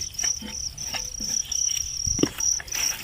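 Wild crickets chirp in a steady high trill that pulses continuously, with a few soft rustles and taps close by.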